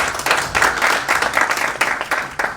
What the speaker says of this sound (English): let's give a good round of applause to Honorable Ndindi.